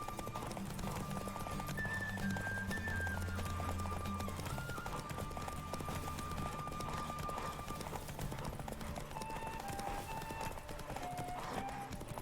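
Rhythmic hoofbeats of a galloping horse in The Witcher 3 pound steadily throughout, mixed with game music and ambient sound effects.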